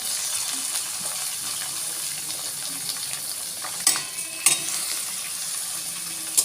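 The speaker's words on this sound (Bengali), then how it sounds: "এই পেঁয়াজের সাথেই না চিকেনটাকে ভালো করে ভাজাভাজি হবে" Chicken pieces frying with onions in a hot pan over a high gas flame give a steady, fairly quiet sizzle, broken by a few sharper crackles and pops near the end.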